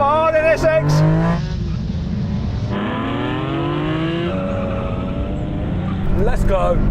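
Honda NSX race car in a Gran Turismo drag race, its engine revving and rising through gears in a steady loud drone, with a voice talking over it.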